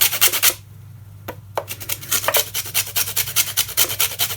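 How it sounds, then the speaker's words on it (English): A lemon peel grated by hand on a grater into a bowl gives a rapid series of close, rhythmic rasping strokes, broken by a short pause before the scraping resumes and continues steadily. "So I don't have a fancy zester, so I'm just going to grate the lemon peel"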